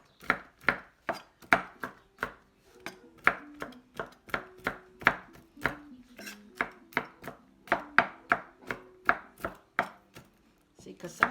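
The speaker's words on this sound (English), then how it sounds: "I just kind of give it a rough chop so they're not such big chunky walnuts" Knife roughly chopping walnuts on a cutting board for banana bread, a rapid run of sharp close knocks in an uneven rhythm, about three per second, with no talking.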